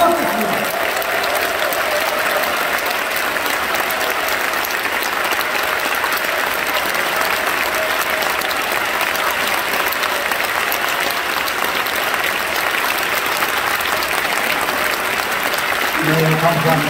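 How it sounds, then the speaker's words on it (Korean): An audience at a large Korean convention hall gives sustained, loud applause to welcome the descendants of missionary Williams. Dense clapping continues evenly for the whole stretch, with some voices heard through it. "우리 이분들에게 뜨거운 박수로 환영과 감사의 마음을 전해주셨으면 고맙겠습니다."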